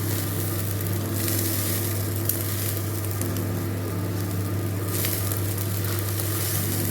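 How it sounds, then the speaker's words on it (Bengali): Dehradun rice frying in ghee with whole spices in a pan, giving a steady soft sizzle and crackle that runs unbroken throughout at moderate level, with a low hum beneath it. "চালটা যে ঘি দিয়ে গোটা গরম মশলা দিয়ে যে ভাজি"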